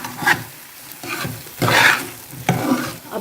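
Custard halwa frying in Dalda ghee as it is stirred in a pan, giving a close sizzle broken by four or five scraping strokes of the spoon, with no talk.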